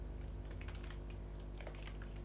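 Rapid clicking on a computer keyboard, quiet and close, in short clustered bursts over a steady low hum with no talking.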